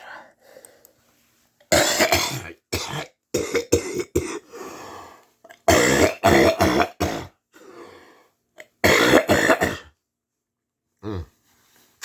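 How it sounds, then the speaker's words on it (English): Several harsh, forceful coughs burst out in clusters, separated by pauses and bits of talk. "That was a nasty cough."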